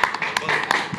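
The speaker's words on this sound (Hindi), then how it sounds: "तालियां" Audience applause at the launch of a Bollywood dance academy, a short burst of dense clapping from the crowd with a voice over it.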